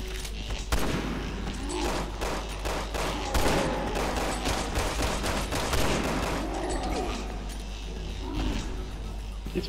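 Rapid bursts of gunfire from the Resident Evil 6 video game crackle in dense volleys almost without pause, loud and close, over a low rumbling game backdrop.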